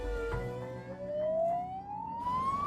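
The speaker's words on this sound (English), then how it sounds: "I'm going to chuck the sirens off" An ambulance siren wails with a rising tone that climbs slowly and steadily, heard fairly close over a low engine rumble.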